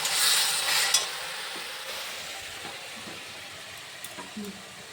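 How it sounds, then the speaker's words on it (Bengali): Aloo dum masala with tomato, cumin paste and ginger paste being sautéed, a close sizzle and stirring that starts strong and fades to a quieter crackle, with faint scraping near the end. "টমেটো, জিরে বাটা, আদা বাটা সব কিছু দিয়ে কষিয়ে নিচ্ছি"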